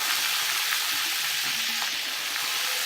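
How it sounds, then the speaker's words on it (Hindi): Cauliflower and potato curry fries on medium heat, giving a continuous, even sizzle and crackle up close with faint stirring sounds underneath and no talking. "अब हम इसको मीडियम आंच पे पकाएंगे अच्छे से"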